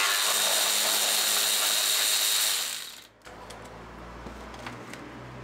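A ratchet wrench clicks steadily as it loosens a bolt on a 2024 Chevrolet Colorado ZR2 with a 3.0 Duramax diesel, a loud continuous whir of ratcheting that cuts off abruptly, followed by quieter scattered clicks and handling noises.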